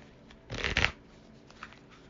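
Archangel Oracle cards are shuffled in one brief, close riffling burst, followed by a few softer card handling taps in a quiet room.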